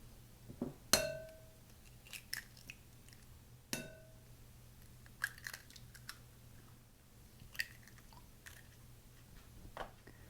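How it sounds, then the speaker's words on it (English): Eight eggs are cracked into a bowl one after another, giving a few sharp, faint taps and clinks against quiet kitchen background with no talking. "now I'm going to take 8 eggs and crack them into a bowl"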